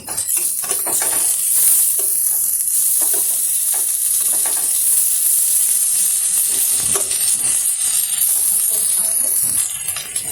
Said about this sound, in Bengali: হালকা আছে লাল লাল করে ভেজে নেব।